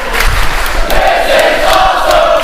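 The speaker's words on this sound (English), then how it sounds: "The crowd showing its respect and admiration for the Black Arrow" A wrestling crowd at a Singapore championship match cheers and roars in a loud, continuous wash, with shouts rising out of the dense noise.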